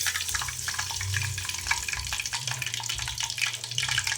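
Mustard and cumin seeds fry in hot oil in a pan on the stove, a dense, continuous crackle and spatter heard up close without any talk.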